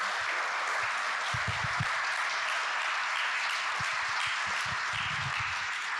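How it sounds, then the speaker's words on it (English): Audience at a pre-show talk giving a sustained round of applause, a thick even wash of clapping throughout with a few low thumps mixed in. "Give them a round of applause for their leadership."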